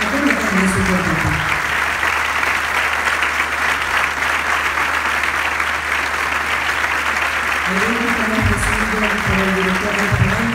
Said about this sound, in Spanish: A continuación vamos a recibir con un caluroso aplauso a Arturo Barquero Romero